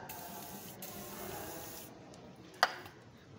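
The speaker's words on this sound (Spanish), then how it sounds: "le vamos a poner un poco de afloja todo" Penetrating oil is sprayed from an aerosol can onto a riveted car ball joint, a close continuous hiss for about two seconds, then quiet with one sharp metallic tap.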